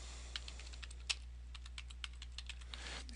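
Quick, uneven keystrokes on a computer keyboard while a CAPTCHA is typed in, a series of faint clicks against a steady low hum, with no talking.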